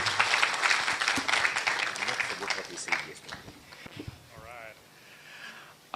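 An audience at a county best practice award forum breaks into applause for the next speaker, loud at first and then thinning out, while a voice speaks over it.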